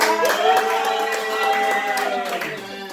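A church congregation applauds during a worship service, with steady rhythmic clapping running under sustained voices or music for the whole stretch.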